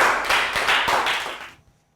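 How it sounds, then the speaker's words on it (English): A short round of applause from students in a year 3 math class, a quick burst of close hand clapping that fades out after about a second and a half. "Round of applause for Pancon."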